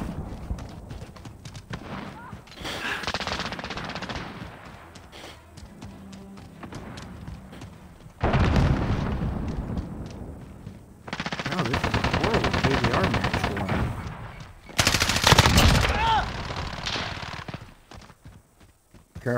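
Rapid gunfire from a first-person shooter video game, with loud automatic bursts breaking out at intervals over steady background game noise.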